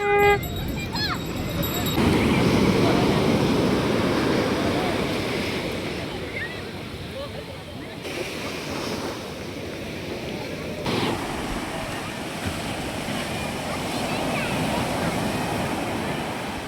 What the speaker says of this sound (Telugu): ఇంకా మేమున్న హోటల్కి ఇది ప్రైవేట్ బీచ్ అన్నమాట